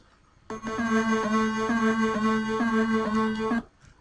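Synthesized oscillator tones from a signal-generator app on a computer speaker play a simple repeating techno-style pattern of bright buzzy notes, steady and alone for about three seconds.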